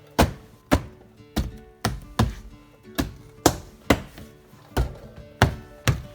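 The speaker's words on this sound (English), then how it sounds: "and just tap the door." Firm hand taps on an Audi A4 door panel, seating its trim clips during a master power window switch replacement; about a dozen sharp, evenly spaced thuds, close and loud, with no talk.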